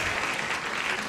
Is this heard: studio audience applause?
yes